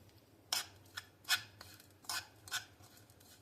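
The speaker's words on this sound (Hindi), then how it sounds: "थोड़ी हल्दी भी डाल देते हैं ना। अब इसको करेंगे अच्छे से मिक्स।" Turmeric being mixed into a dish with a utensil, heard as a handful of quiet scraping strokes against the pan in an uneven rhythm, close and faint with no talk.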